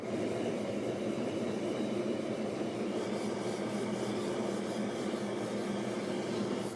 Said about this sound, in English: So I just got done sanding with 320.